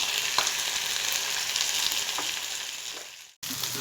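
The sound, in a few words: raw mango frying in a pan for pickle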